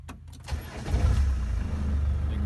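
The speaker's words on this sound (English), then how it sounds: "one last video of the engine starting up and running" A 1992 Land Rover Defender 90 pickup with a 200tdi diesel engine cranks briefly, catches and settles into a low, rough, steady idle, close by with no talking.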